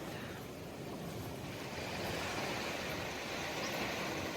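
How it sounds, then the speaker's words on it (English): Ocean waves roll in steadily at a low-lying Western Australian beach campground, a broad, continuous wash of surf with wind noise, moderately distant and with no voices. "And just the presence of every wave coming in"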